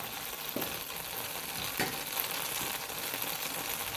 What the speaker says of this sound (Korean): 이게 많이 튀니까 불을 너무 세게 하지 마시고 낮은 온도에서 튀겨주면 좋습니다